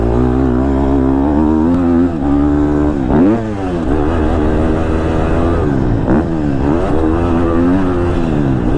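A 2022 KTM 250 SXF four-stroke dirt bike runs close and loud throughout, its engine note rising and falling through repeated rev swells and gear changes with no talk over it.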